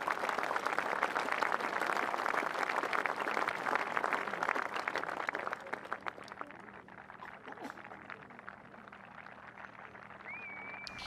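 Golf spectators applauding a putt during the final round of The Open at Muirfield, a dense steady clapping from a large distant crowd that gradually thins and fades.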